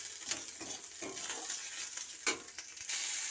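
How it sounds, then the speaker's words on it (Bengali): Chopped tomato sizzling with garlic paste in a pan, with repeated scraping stirs and light clinks of a spoon against the pan, close and soft, ending in a steadier frying hiss. "রসুন বাটা ভাজা হয়ে গেলে এর মধ্যে আমি টমেটো কুচিটা দিয়ে দেব।"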